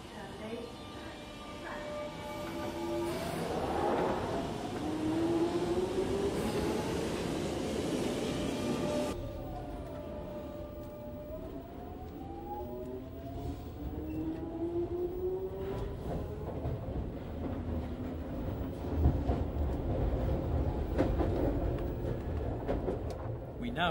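A London Underground Jubilee line train rumbles steadily through tube tunnels, with rising and falling tonal whines from the traction motors and a changing acoustic as the train passes into the tunnel, with a voice talking over it.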